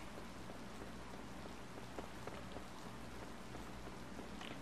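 Steady rain patters down in the Harvest Moon: Light of Hope farming video game, a continuous soft hiss with scattered droplet ticks throughout and no voices.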